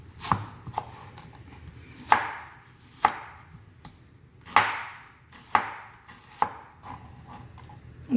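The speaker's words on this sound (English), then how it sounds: "we are done slicing our onions" Onions sliced with a knife on a cutting board, a steady series of sharp, close chops spaced roughly a second apart, each with a brief ringing tail, no talking.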